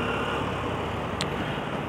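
Steady road traffic in an Indonesian jam, a continuous near rumble of idling and creeping cars with a brief higher hiss partway through, no talk.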